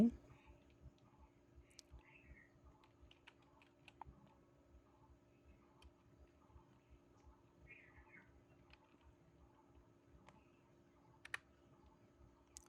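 Keys on a computer keyboard tap quietly in short irregular bursts against a faint background hum, with soft speech in between.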